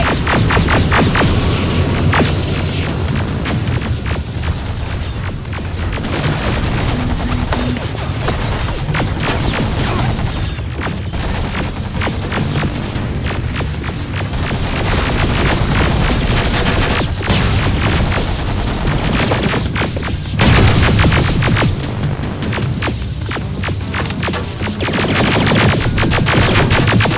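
Heavy, sustained gunfire rages in the Terminator: Resistance video game: dense bursts of rifle and automatic fire with booms and crashes layered into a loud, unbroken barrage lasting the whole stretch.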